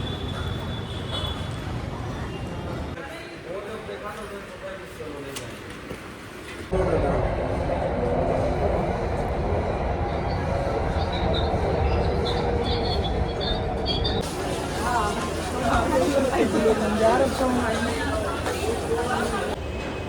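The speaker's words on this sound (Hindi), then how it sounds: "हम फिर से पहुंच गए मेट्रो स्टेशन और अब लेते हैं हम अपनी मेट्रो" A metro train rumbles along with a steady low roar, its rattling growing louder and brighter partway through, while voices murmur faintly in the carriage.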